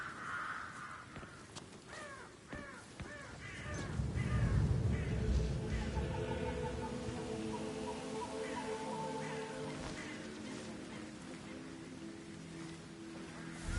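Crows caw repeatedly in a Hitman 3 level set in Norway, harsh calls rising over a steady background of rain and low rumbling ambience, with the birds fairly close and persistent throughout.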